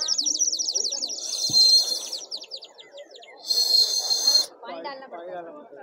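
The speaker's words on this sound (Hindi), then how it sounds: "इसमें पानी डाल के फिर ये चिड़िया चहचहाएगी।" A water-filled clay bird whistle toy sold at a busy handicraft fair gives bursts of warbling, tweeting trills, loud and close, with pauses between them and people talking nearby.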